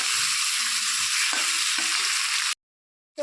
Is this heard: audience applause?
no